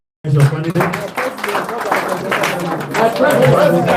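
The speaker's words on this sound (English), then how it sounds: "So another round of applause for your candidate." Loud burst of applause and cheering from a crowd at a Nigerian political rally for Peter Obi, starting abruptly and continuing steadily, with voices mixed into the clapping.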